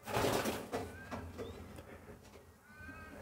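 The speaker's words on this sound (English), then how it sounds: "He's a beautiful pigeon though." A dark-speckled Black Titan cock pigeon nesting on a single egg gives soft, low cooing nearby, a few rounded throaty calls in a quiet setting.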